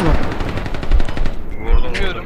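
Rapid automatic gunfire in a multiplayer shooter video game, sharp repeated shots in quick bursts, loud and close, with a few distant pops as the firing fades.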